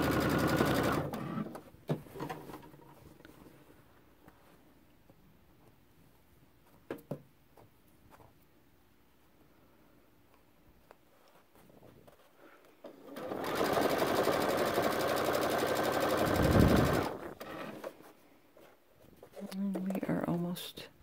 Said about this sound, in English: I'm just going to sew that hole shut.